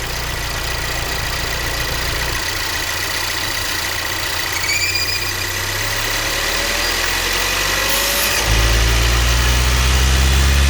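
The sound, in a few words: Volvo XC40 2.0L engine oil trap squeal while idling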